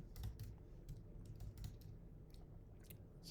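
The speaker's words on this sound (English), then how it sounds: "I can just type somebody in." Fingers typing on a computer keyboard, a quiet run of irregular clicky keystrokes in short bursts, close and faint with no voices.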